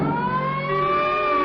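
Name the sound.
siren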